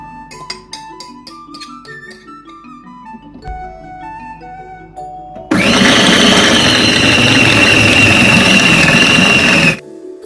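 After a few seconds of soft music, a mixer grinder mincing chicken roars loudly for about four seconds, whirring harshly, then stops abruptly.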